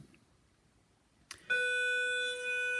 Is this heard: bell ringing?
yes